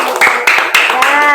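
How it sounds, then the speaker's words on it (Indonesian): Classroom pupils clap a few brief, loud rounds in quick rhythmic groups, with voices chanting along over the claps. "Ayo, tepuk tangannya dulu."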